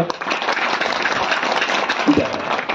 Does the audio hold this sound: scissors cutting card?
no